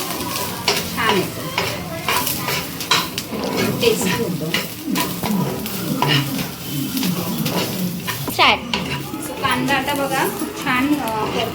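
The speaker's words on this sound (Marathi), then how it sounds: "त्यात मी हिरवी मिरची लसूण आणि आलं टाकलं आहे ते पण चांगलं ह्याच्याबरोबर भाजून घ्यायचं" Onion, green chili, garlic and ginger roast in a pan for mutton, sizzling steadily while a spoon stirs and scrapes repeatedly, with someone talking over the cooking.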